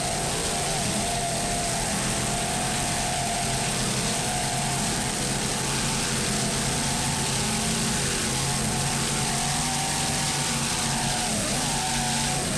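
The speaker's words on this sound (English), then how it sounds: "throttles the WHM Motorsports Super Cat engine here in the Offshore Super Series" Offshore Super Series racing catamaran with a WHM Motorsports Super Cat engine, running in bumpy waters off St. Pete during the 2005 OSS world championships: a steady, loud, droning engine roar that holds throughout with no talk.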